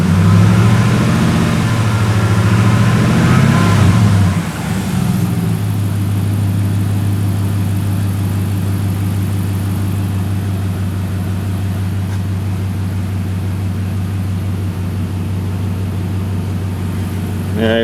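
A 5.7L Dodge Ram engine, just restarted after a water pump job and still cold, gets a short loud rev at the start, then settles into a steady, droning idle close by.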